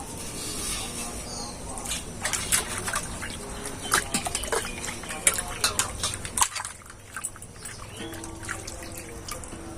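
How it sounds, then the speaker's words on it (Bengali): Scrubbed copper and brass items are rinsed in water, giving splashing, dripping and trickling sounds with clinks of metal, close by and under light talk. "এবার এগুলো মেজে নিয়েছি, ধুয়ে দেব।"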